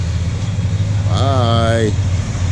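A 1971 Plymouth Satellite idles with a steady, close low rumble throughout, while a short voiced, wavering tone rises over it midway.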